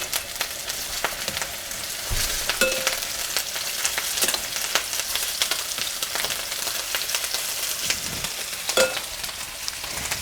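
Bison meatballs fry and sear in a pan, a loud continuous crackling sizzle with scattered sharp pops and spatters throughout, close up and without talk.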